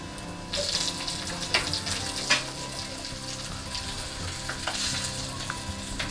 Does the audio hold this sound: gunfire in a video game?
no